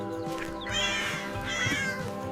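A cat gives two drawn-out, rising meows in quick succession, close and clear over a steady soft tonal backing.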